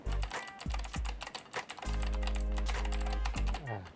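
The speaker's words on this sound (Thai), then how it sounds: "ก็คือเป็น บูสวิตออปติคอลนั่นเองนะครับผมว่าคือเสียงจะเป็นอย่างนี้นี่" Rapid typing on a Signo E-Sport KB-770 keyboard with blue optical switches, crisp clicky keystrokes, close and busy, some keys pressed in quick bursts and a few heavier bottoming-out thuds.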